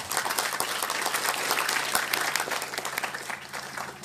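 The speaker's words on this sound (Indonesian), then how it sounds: "Tepuk tangan untuk semuanya." An audience at a PSHT Sub Rayon Pilang Payung thanksgiving gathering in 2020 claps, a dense, steady round of applause that carries on throughout, loud and close.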